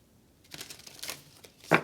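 A few brief papery riffles and flicks of tarot cards being shuffled, ending in one sharper, louder snap.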